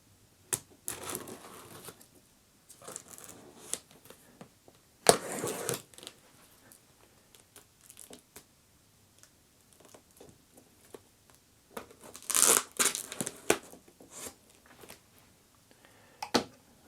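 Cardboard box for a Creality wash station is cut open and unpacked up close, with scattered bursts of crinkling, tearing and scraping separated by quiet gaps, and a louder rustle near the end.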